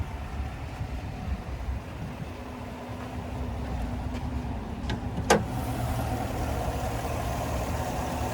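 A 2021 Chevrolet Suburban High Country's 6.2-liter Ecotec V8 idling, a low, quiet and steady engine hum with one brief click partway through and no talking.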